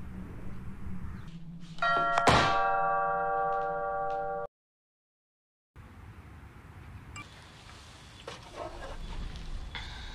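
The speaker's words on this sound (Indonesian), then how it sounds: "suara bel yang kembali berbunyi" A doorbell rings with a bright, sustained electronic chime over low ambient hum, loud and close, then cuts to silence before quieter room noise and faint clatter resume.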